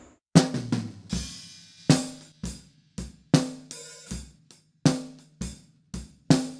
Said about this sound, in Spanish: Ahora vamos a mutear absolutamente todos los procesos de este redoblante